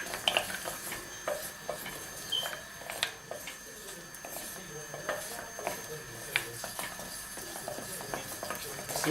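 A spoon clinks and scrapes against a pan while dairy-free chocolate melts for chocolate and raisin cookies, with close, irregular taps and rattles over a steady background.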